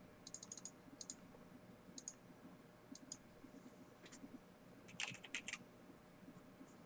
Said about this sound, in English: Ah, stupid keyboard.